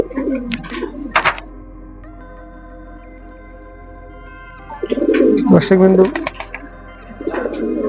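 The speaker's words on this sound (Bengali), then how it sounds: "দেখুন, এটা পুরো ফ্রেশ কবুতর" Pigeons coo in short bursts near the start and again in the middle, under a voice talking about a short-size pair being matched for breeding, with quiet background between.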